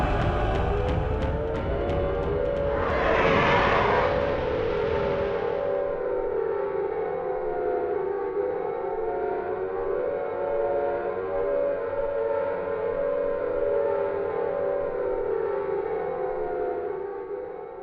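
Air raid siren from the Silent Hill video game, a loud sustained wail with a rising swell early on, then a steady droning tone holding for many seconds with no speech.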